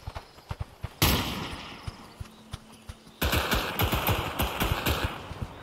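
Friendly fire from teammates in a competitive video game match, rapid bursts of gunfire with sharp repeated cracks, sometimes dense and continuous, sometimes spaced single shots, loud and close.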